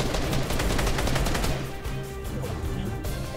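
Dense, continuous automatic gunfire from a Fortnite Battle Royale match, with rapid repeated shots in a loud barrage that eases slightly partway through.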